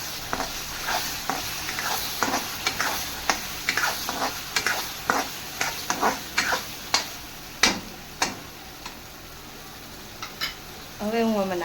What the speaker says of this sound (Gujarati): હવે હું આને હલાવી લઈશ.